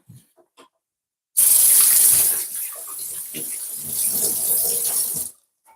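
A kitchen tap runs for several seconds as hands are washed, a close, hissing stream of water that starts abruptly, shifts as the hands move under it, then cuts off.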